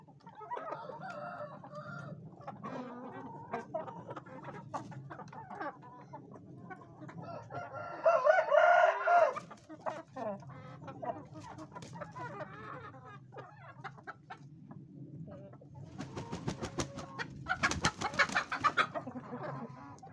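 An Indian game rooster, a çil (speckled) bird, crows among hens on a farm: several loud, drawn-out crows stand out over scattered clucking, with brief quiet gaps in between.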